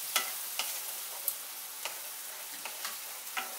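Spices with turmeric and tomato puree being sautéed in a pan for doi katla, giving a faint, soft sizzle broken by several light, irregular clicks of a spatula stirring the thick masala.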